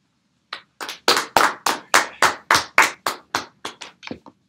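About fourteen separate sharp claps ring out in a steady, slightly slowing rhythm, loud and close in an otherwise silent room, more like one person's hands than a full audience.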